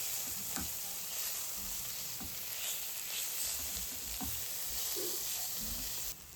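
Cumin, turmeric and chili powder masala sizzles steadily in hot oil while being stirred for an amudi fish curry, a continuous faint frying hiss with soft scraping stir strokes.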